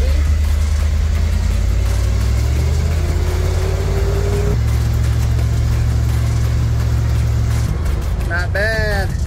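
A 1952 Ford F1 truck engine drones low and steady while driving, shifting pitch as it changes gear, loud and continuous with a voice heard over it and a brief squeaky sound near the end.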